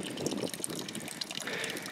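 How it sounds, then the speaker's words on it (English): Fresh spring water in the Davis Mountains pours steadily into a canteen, a continuous soft trickling and gurgling fill heard up close, with no talking. "I'm going to fill my canteen."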